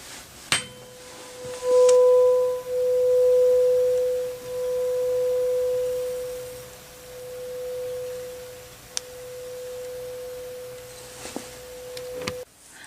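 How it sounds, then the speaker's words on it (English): A single struck tuning fork being rotated gives one steady pure tone that swells louder and fades softer in slow alternating waves, with faint tapping and handling clicks at the start and end. "hopefully you can hear the volume variation as I turn the tuning fork"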